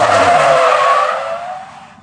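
A Toyota JZX90 drifting on a hot track gives a single loud tire squeal, sharp and close at first, then trailing off as the car slides away.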